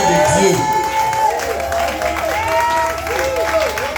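A church congregation at a New Year's Eve vigil applauds and cheers loudly, with continuous clapping, shouts and voices mixed in.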